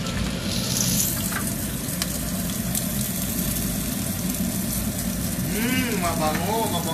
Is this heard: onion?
yes